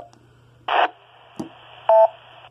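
A GMRS radio repeater's squelch tail: a short electronic kerchunk and tone burst, a brief click, then a longer beep and carrier hiss that cut off, with a faint steady hum beneath, no talking.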